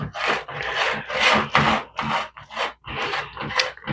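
A spoon rasps steadily around the inside of a jar, scraping sourdough starter down in a series of close, rough strokes with short pauses between them.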